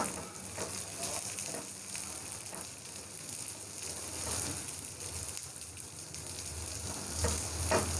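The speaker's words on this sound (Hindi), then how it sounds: "ये प्याज के साथ हम ये डाल देंगे लहसुन। लहसुन को भी फ्राई कर लेंगे।" Steady, fairly quiet sizzling of onions and garlic frying in hot ghee, with occasional stirring scrapes; no one speaks.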